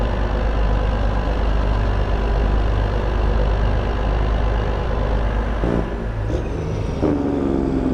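Vehicle engine pulling a trailer in the video game Farm Sim 22, a steady loud low rumble with a constant drone, a couple of brief clunks and a rising tone near the end.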